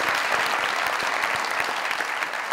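Studio audience on a Pakistani comedy talk show bursts into loud, steady applause, dense clapping filling the room throughout without a break.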